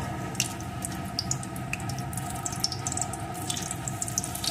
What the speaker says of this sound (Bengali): এখন এর ভিতরে দিয়ে দেব একটু কালো জিরে, সাথেই দিয়ে দেব একটা শুকনো লঙ্কা।